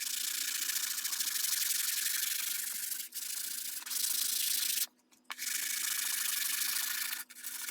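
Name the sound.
sanding curved wooden rifle buttstock with sandpaper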